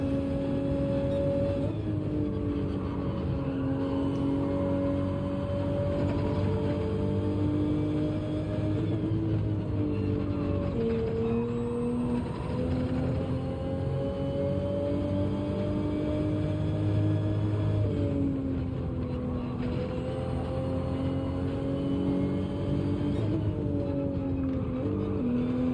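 Engine of a car in Gran Turismo 7 revving at Brands Hatch, a steady loud drone with pitch rising and falling through downshifts and blips, no talk over it.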